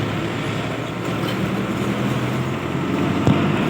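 Steady road traffic noise from congested city traffic, a continuous low rumble of engines with a single soft knock near the end and no talking.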